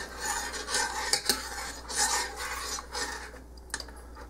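Food is stirred and mixed in a bowl, a continuous scraping, rasping rub with a few sharper clinks, close and steady, and no talk over it.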